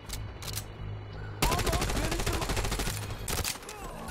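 Gunfire in the mobile shooter The Division: Resurgence: a few scattered single shots, then a sustained rapid burst of close automatic fire for roughly two seconds, followed by another short volley.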